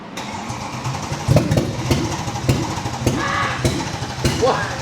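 A rebuilt, previously wrecked Mercedes C63 engine cranks and runs roughly on one cylinder, with uneven loud chugging pulses close by.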